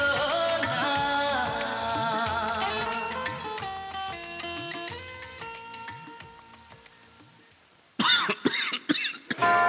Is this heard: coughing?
yes